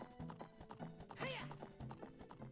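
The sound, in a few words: horse hooves clip-clopping in Ocarina of Time video game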